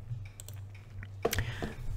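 Computer keyboard typing during a software tutorial: a few scattered, faint key clicks followed by a brief cluster of sharper taps, close by, over a low background hum.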